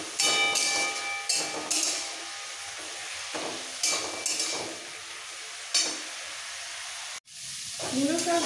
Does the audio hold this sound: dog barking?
no